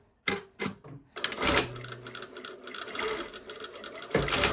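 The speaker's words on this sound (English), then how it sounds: "sewing the facing together at the shoulders" Sewing machine stitching a bodice facing together at the shoulders: a short stop-start burst first, then a steady, close whirring run with a faint mechanical rattle, no voices.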